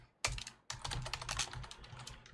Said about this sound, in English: while we're typing all this stuff out